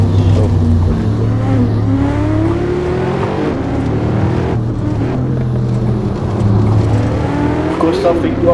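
A Mercedes W213 E63S Estate engine drones and revs in the Assetto Corsa racing game on the Bikernieki track, a loud continuous engine note rising and falling with gear changes and acceleration.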